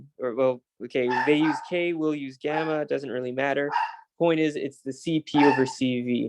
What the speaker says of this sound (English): sorry for the dog noises in the background